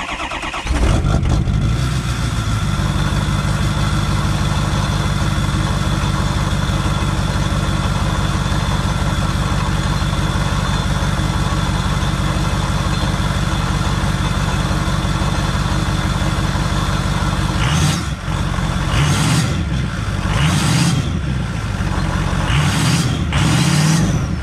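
A large 6.0L Powerstroke diesel truck engine rumbles at idle, then revs up sharply several times near the end, close and loud.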